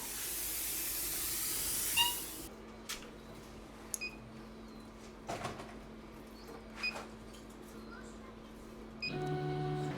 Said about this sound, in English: it has auto air assist, so it kicks on and off whenever you need it to